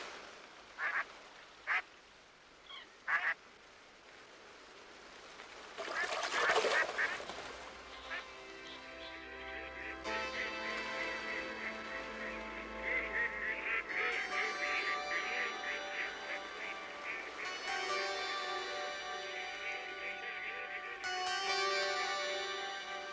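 Tufted ducks and mallards quacking, a few sharp isolated calls at first, then a dense, continuous chorus of overlapping quacks and tonal calls that stays loud and busy to the end.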